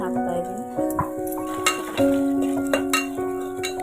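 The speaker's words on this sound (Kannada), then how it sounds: "ಇವಾಗ ಇದಕ್ಕೆ ನಾನು ಉದ್ದಿನಬೇಳೆನ ಹಾಕ್ತಾ ಇದ್ದೀನಿ ಶೇಂಗಾ ಹಾಕ್ತಾ ಇದ್ದೀನಿ ಪಲಾವ್ ಎಲೆ" Urad dal, peanuts and bay leaf frying in hot oil for carrot pulao, a light sizzle under scraping and clinking of a spoon against the pan, with someone speaking throughout.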